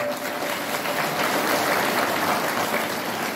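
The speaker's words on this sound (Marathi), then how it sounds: "एकदा सगळ्यांनी जरा त्यांच्याकरता टाळ्या वाजवा" An audience applauding for mridang players at a devotional gathering, dense continuous clapping from many hands, loud and close, sustained evenly without a break.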